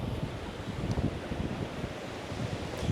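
Steady wash of ocean waves on an Italian beach, broad and rumbling with wind buffeting the microphone, no voices.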